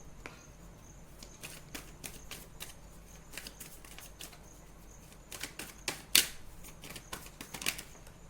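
Tarot cards being shuffled and handled for a clarification draw, a run of crisp flicks and riffles, close and fairly quiet, with a louder burst of snapping cards near the end and no talk.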